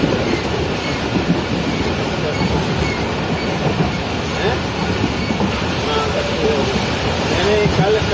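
Pakistan's Business Express passenger train rolling along the tracks, a loud, continuous rumble and clatter of wheels on rails heard from inside, with people talking over it.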